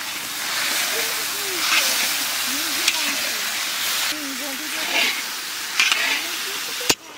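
Chicken going into a pan of well-fried spices at a winter family picnic, a continuous sizzle and hiss with stirring, while people talk nearby.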